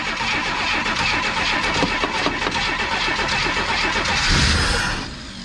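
An old 1970 Chevrolet Nova engine cranks with a rapid, rhythmic starter churn, then catches and runs loudly with a brief rise in revs before settling at the end, recorded up close.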